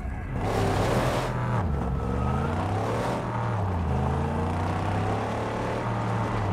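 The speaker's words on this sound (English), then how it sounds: "Rev it up and go, Saint." A buggy engine in the Mad Max video game revs and drones continuously, pitch rising and falling as it accelerates, loud and close with no talk over it.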